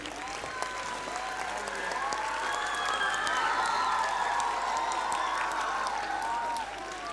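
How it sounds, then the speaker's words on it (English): Children clapping together at a school acknowledgements and felicitation ceremony, a steady wash of applause with faint cheering and some voices mixed in, continuing evenly throughout. "Keep clapping, children."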